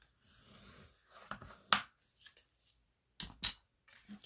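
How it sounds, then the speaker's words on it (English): Scored pink cardstock being folded for a card base: a few short crisp creasing and rubbing sounds in separate bursts, close and fairly quiet, with silent gaps between. "so I'm going to fold that down"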